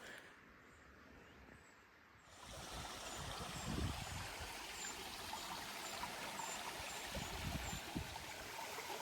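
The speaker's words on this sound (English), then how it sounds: "There's a lot less water flowing today than there was last time I was here." A small moorland stream trickles and splashes over rocks with low water, a soft, continuous burble heard close by and fairly quiet, with faint wind in the background.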